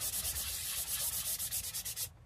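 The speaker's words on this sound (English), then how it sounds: "I've got sanding sticks, which are just made of little paint stirrer with the appropriate kind of sanding paper glued on" A handmade sanding stick, paint stirrer faced with sandpaper, rubs along an edge in quick, even back-and-forth strokes. The gritty scrape repeats close by and stops abruptly.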